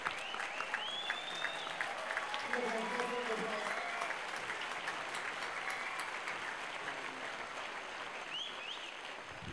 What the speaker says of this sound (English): please put your hands together and a huge round of applause for Mr. Gerry Zierler